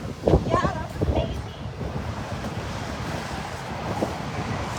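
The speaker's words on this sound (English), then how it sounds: "this wind is picking up" Strong outdoor wind buffets a microphone at a street protest, a constant low rumble with gusty bursts, loudest at the start, with faint voices briefly audible underneath.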